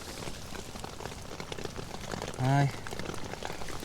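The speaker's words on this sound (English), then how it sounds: "Looks like rain. Everything's soaking." Heavy rain hammers a tent pitched outside in Scotland, making a dense, steady hiss of drops. A voice breaks in briefly with a short exclamation.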